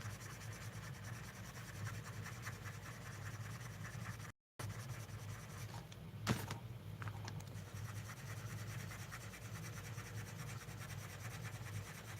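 Colored pencil scratching on paper in a mixed media art piece, a quiet steady rubbing of close, soft strokes that runs continuously with a brief gap and one louder tap.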